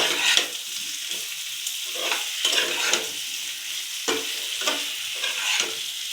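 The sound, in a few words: stirring small potatoes for aloo dum in pan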